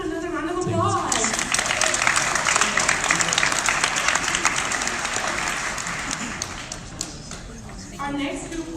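An audience at a pitch night claps for a school group presentation, a sustained round of applause that swells after a brief voice, holds, then tapers as a speaker resumes.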